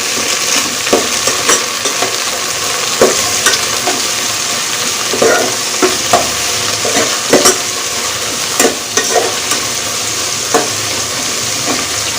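Fresh mint and coriander stirred into a sizzling frying pan, a loud continuous hiss punctuated by repeated scraping clicks of a spoon against the metal pan, close up with no talking.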